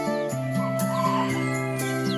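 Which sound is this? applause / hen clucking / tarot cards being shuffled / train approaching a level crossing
hen clucking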